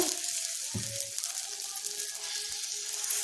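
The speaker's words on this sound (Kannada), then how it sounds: "ಈ ಥರ ಎರಚಿಬಿಟ್ಟು ಹುರಿಬೇಕಷ್ಟೇ" Thin, watery dosa-style batter is sprinkled onto a hot pan and fries with a soft, steady sizzle, opened by a brief clunk, with no talking.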